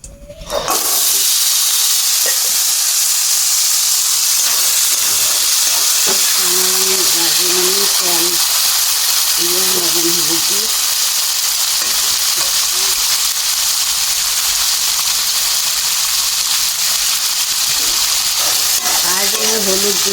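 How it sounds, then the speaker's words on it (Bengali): Chickpeas (chana) fry in oil in a wok, a steady loud hiss and sizzle filling the whole stretch without letup, with occasional faint clinks and brief background voices. "এলা মুই চানালা ভাজি নিমু।"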